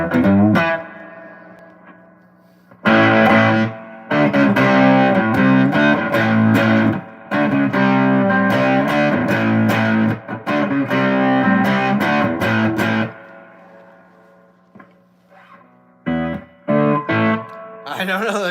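An electric guitar played through an amp with reverb gives distorted chords and phrases in bursts, with ringing tails between them and pauses of near silence.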